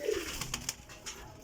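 Pigeons cooing nearby, a low throaty coo at the start followed by faint scuffles and soft knocks in a quiet setting, without talk.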